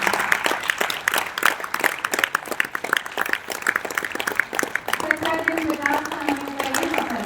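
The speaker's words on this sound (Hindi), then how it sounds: "जोरदार तालियां हो जाए हमारे लेखिकाओं के लिए।" Loud applause from an audience at a Hindi literary event, honoring women writers; dense, close clapping throughout, with a tonal chime or music entering near the end.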